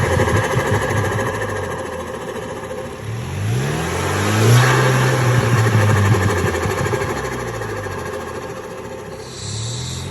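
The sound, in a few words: car engine revving with upgraded intake, Burger tuner, sport mode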